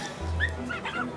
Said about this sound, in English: I'm getting some complaints from passengers about a barking noise.